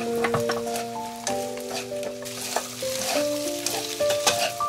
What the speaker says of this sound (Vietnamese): Đảo đều cho đến khi nước sốt áo đều vào gà.